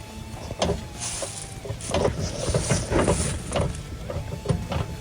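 Metal clunks and scraping knocks repeat irregularly as a trailer hitch is wiggled back and forth, close by over faint background hum.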